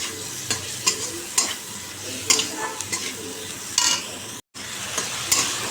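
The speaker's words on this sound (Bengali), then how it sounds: "দেখো মশলাটা একটু কষিয়ে নিচ্ছি তেল বেরিয়ে গেছে" Spice paste fries in oil for a pomfret fish curry, a close sizzle broken by about eight sharp spoon scrapes against the pan, with a brief dropout near the end.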